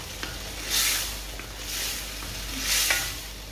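Tomato pickle cooks on a medium flame in a thick steel pan, giving a soft steady sizzle with a few swelling bursts of frying hiss, heard alone with no talk.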